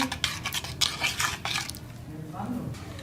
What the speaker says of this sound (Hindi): इसको अच्छी तरह से मिक्स कर लेंगे